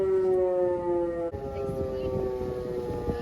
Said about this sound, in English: We also heard these really loud safety sirens.